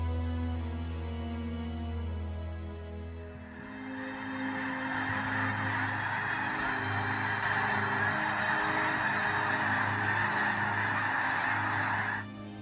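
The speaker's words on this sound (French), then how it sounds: "Regardez les oiseaux du ciel" A flock of geese honks loudly and continuously, with overlapping calls that swell after a brief quieter opening and carry on alone without any talking.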